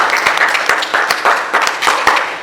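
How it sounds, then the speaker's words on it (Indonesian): An audience claps in a brief, uneven burst during a talk show about Lampung theater, the applause fairly close and continuous for a couple of seconds without speech over it. "tepuk tangan"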